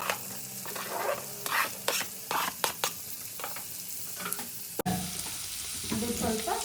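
Four finely chopped onions frying with cumin in a pan, stirred with repeated scraping strokes over a continuous sizzle, with a sharp clatter near the end before the sizzling resumes.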